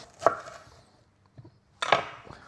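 A knife cuts straight through an onion on a board to make onion rings, two distinct crisp chopping strikes with a quieter tap between, close and clear with no talking.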